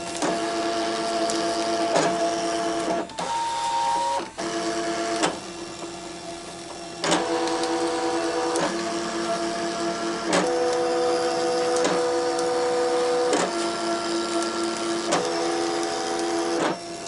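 A ScanNCut machine cutting fabric for an appliqué quilt, a continuous close mechanical whirring and buzzing broken by regular clicks as the blade carriage changes direction.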